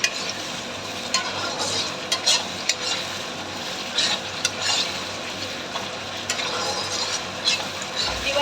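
Potatoes and cauliflower frying in an oil-slicked spice paste while being stirred, giving a steady close sizzle broken by scraping spatula strokes and light utensil clinks, with no talking.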